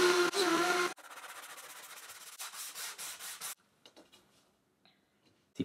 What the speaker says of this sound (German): Und jetzt bringe ich die Nuten in die Teile vom Schubkasten ein.